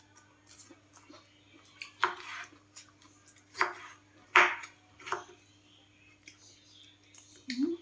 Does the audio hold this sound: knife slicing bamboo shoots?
yes